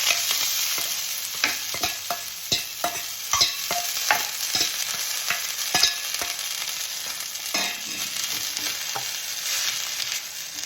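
Fenugreek leaves roasting in a little oil in a pan, a steady close sizzle broken by repeated scraping clicks of a spoon stirring the greens, no talking.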